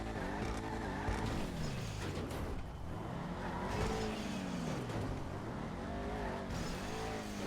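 A Declasse Vigero ZX muscle car in GTA 5 Online revs hard, its engine rising and falling in pitch through repeated throttle swells and a brief tire squeal, loud and close with no talk.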